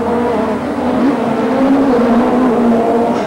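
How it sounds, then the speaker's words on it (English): Italian Superturismo touring race cars from 1995 racing at Mugello circuit, their engines producing a loud, continuous roar with a wavering pitch that rises and falls as the cars drive past together. No voices are heard. "Oscar Lerari sportingly waved Tarquini through on the inside"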